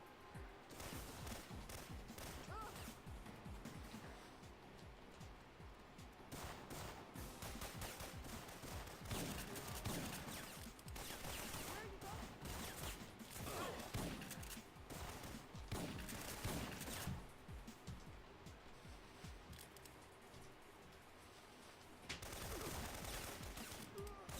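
Dense, rapid gunfire from the video game Syphon Filter rattles on almost without pause, loud and sustained, with short breaks in the shooting.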